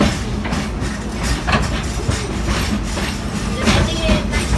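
An amusement park tour train runs along its rails, its wagons giving a steady, continuous rumble with faint clatter throughout, fairly loud and close, with no clear speech over it.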